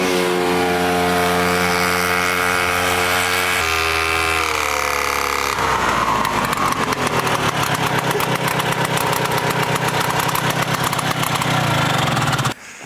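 A 1968 Ski-Doo Super Alpine snowmobile with a Rotax 370 opposed engine runs loud and close, starting at a steady idle, then revving up into a rapid, rattling drone that holds until it cuts off at the end.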